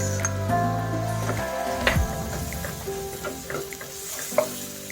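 Onion and tomato frying in a pan for a seafood spaghetti sauce, a close, steady sizzle with stirring scrapes and a few light clinks of the utensil, and no talking.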